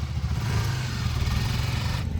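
Adventure motorcycles ride off on a Spiti trip, a loud, close, steady low engine drone that holds throughout with no talk.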